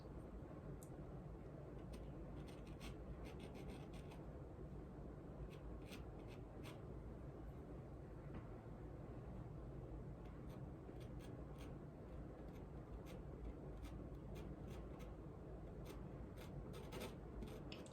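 Soft drawing medium is patted and rubbed onto rough paper, giving a quiet, continuous scratchy rasp with light ticking strokes throughout, close and alone with no voices.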